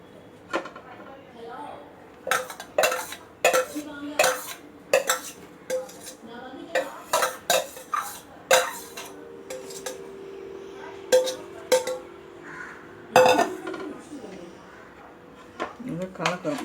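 Beaten egg and mixed greens stirred in a pan for a keerai egg dosa, with a run of sharp utensil clinks and scrapes against the pan at an uneven pace, close by, while a person speaks throughout.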